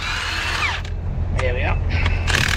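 A power tool whirs in short, loud bursts as it undoes bolts on a fairly new truck, with rising and falling whines between pauses. A voice talks underneath.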